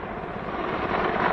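A combat attack helicopter in Ladakh gives off a steady, fairly loud rotor and engine drone that swells slightly toward the end, with no voices over it.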